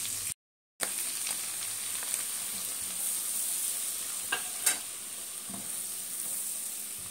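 A utensil scrapes and stirs flour roux in a sizzling frying pan, steady frying hiss with a few sharper clinks, no voices.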